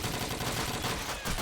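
Rapid Thompson submachine gun bursts in a competitive multiplayer shooter, a dense continuous rattle of gunfire with no pauses across the short stretch.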